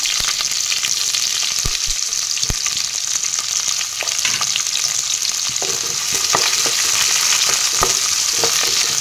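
Onions fry in oil for chicken curry in a pan, giving a loud, steady, close sizzle, with occasional scraping clicks as they are stirred.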